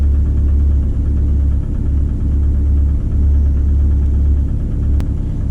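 A car engine with a FuelTech FT450 ECU, on its first start of the day. It runs with a loud, steady, close low rumble and idle vibration and a short click near the end. No separate cranking phase stands out.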